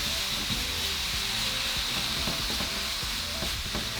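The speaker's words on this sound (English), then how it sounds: "So now we're just going to cook our meat" Seasoned ground beef cooking in a pan, a dense steady sizzle with faint stirring scrapes, close and even throughout the short stretch, no voices.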